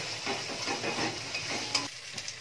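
Spice paste fries in oil in a pan, a steady close sizzle broken by scraping stirs and a few light clinks, fading slightly near the end.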